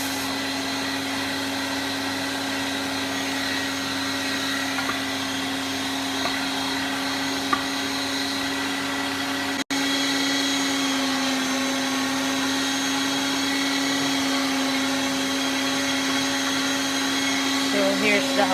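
An electric grinder runs continuously while grinding rice and potatoes for khoba meat, a steady high motor whine with a brief cut and restart partway through.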